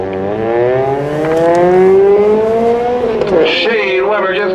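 Class B stock race cars launch at a spectator drag race at Oxford Motor Mayhem, with a loud, close engine roar climbing steadily in pitch before breaking into a rougher, shifting snarl near the end.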